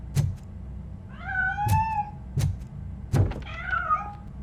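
Cat meowing in the Robocop: Rogue City video game, two clear drawn-out meows separated by a pause, each set among sharp thuds and knocks, close and fairly loud with no talk.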